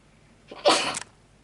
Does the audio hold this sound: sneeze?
yes